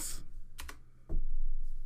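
Quick clacks of typing on a computer keyboard while playing the 1989 PC game Quest for Glory, a few short keystroke bursts, close and fairly soft.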